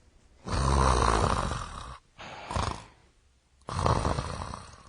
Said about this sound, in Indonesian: Itu suara dengkuran kan?